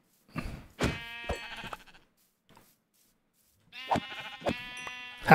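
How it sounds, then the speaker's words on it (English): Black sheep in the Minecraft video game bleating in short, near, clear bursts, a few cries at the start, a quiet gap, then more bleats near the end. "Come here, black sheep."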